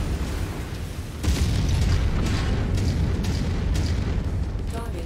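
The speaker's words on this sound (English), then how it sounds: "I hit him in the head with the rifle shot" A rifle shot strikes an enemy mech in MechWarrior 5: Heroes of the Inner Sphere: a heavy booming impact erupts and rolls on as a sustained rumbling roar with faint crackling bursts, close and loud.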